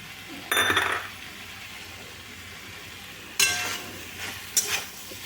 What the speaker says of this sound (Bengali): এবারে খেজুর দিয়ে এগুলো ভালো করে আবার নেড়ে নিচ্ছি